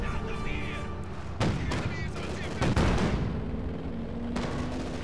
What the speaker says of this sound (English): Fire the damn cannon!